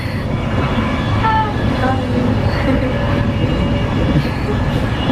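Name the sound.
train rumbling while riding inside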